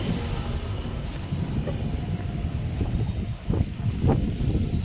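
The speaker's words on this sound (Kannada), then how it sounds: "ಜಿಡಿ ಗಾಳಿ ತುಂಬ ಗಾಳಿ ಬರ್ತಾ ಇದೆ" Strong wind blows steadily outdoors, a loud broadband roar with gusty buffeting against the microphone that continues for the whole stretch.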